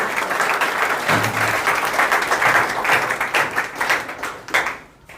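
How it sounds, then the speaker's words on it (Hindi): Audience applause, a close, lively crowd clapping that holds steady, then thins into scattered claps and fades out at the end. "जोरदार ताली हो जाए जगदीश जी के लिए भी"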